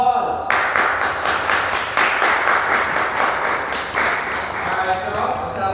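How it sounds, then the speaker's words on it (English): A group gives a round of applause, a lively burst of clapping with a quick pulsing rhythm that stays loud and fairly close throughout. "Everybody, let's give them a round of applause."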